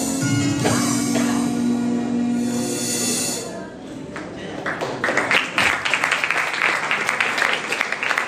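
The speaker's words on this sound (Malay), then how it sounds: "Beri tepukan gemuruh kepada kumpulan yang kedua" An audience applauds a second performing group at a music event, a dense patter of clapping rising after music fades, fairly loud and continuous.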